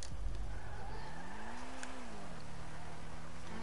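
A fast car accelerating in GTA5, a loud, continuous engine drone rising and falling in pitch as it revs up and shifts.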